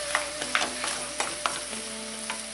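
Aubergines frying in a pan as a spicy sauce is stirred in, a continuous sizzle with a few sharp scrapes and taps of the utensil over about two and a half seconds, no voices.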